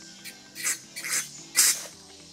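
Bursts of carburetor cleaner sprayed onto a plastic Briggs & Stratton lawn mower carburetor: three short, close hissing spurts of aerosol spaced about half a second apart, with faint tinkling handling noise between them.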